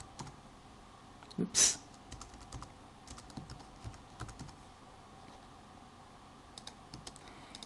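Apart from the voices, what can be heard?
typing on a computer keyboard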